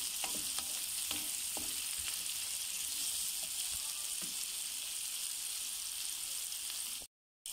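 Broad beans (baqilla) frying in spiced oil give a steady, close hiss of sizzling, broken by a few light stirring clicks early on, before cutting out abruptly near the end.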